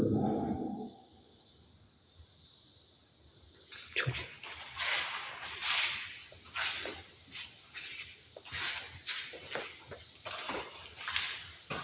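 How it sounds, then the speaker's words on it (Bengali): Dense, steady chorus of crickets chirping at night outside a fort, in a high, continuous trill, with many overlapping pulses and no voices. "বাইরে অসংখ্য ঝিঝি পোকার ডাক"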